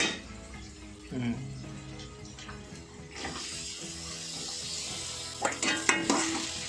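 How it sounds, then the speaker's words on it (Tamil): Onions sauté in a pan for rava kichadi, a soft steady sizzle with occasional stirring scrapes and utensil clinks, fairly quiet and heard alone without talk. "கொஞ்சம் நேரம் வெங்காயம் வதங்கும்."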